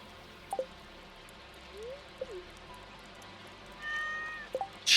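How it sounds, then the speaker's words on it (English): A cat gives a few short meows at moderate distance, with brief pauses between calls against a quiet background. "The cat's name is Weeds."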